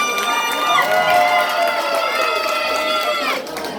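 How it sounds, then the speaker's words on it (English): A crowd at a Miss Iu Mien beauty pageant breaks into loud cheering, whoops and applause, with excited voices layered over the clapping before it eases off. "Please give a round of applause for those 3 beautiful girls."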